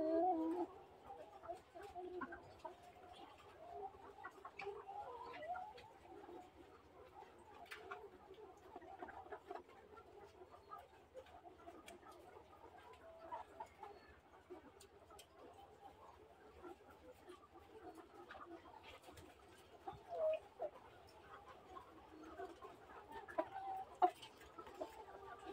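Laying hens on a poultry farm cluck and murmur continuously at low level, with scattered louder calls and occasional sharper squawks rising over the steady flock chatter.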